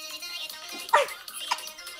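A dog lets out a short bark and a whimpering yelp amid a noisy indoor scene, with people chattering and laughing around it.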